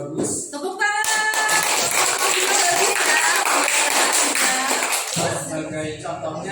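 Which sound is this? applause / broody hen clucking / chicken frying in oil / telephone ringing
applause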